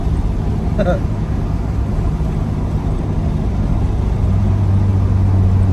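Acura RSX with a swapped K24 engine, a steady low engine drone from inside the cabin while driving, with people talking over it.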